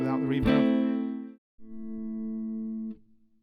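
Distorted electric guitar through a Line 6 HX Stomp with reverb off plays two sustained notes, each held then stopping abruptly, sounding dry and close with no lingering tail.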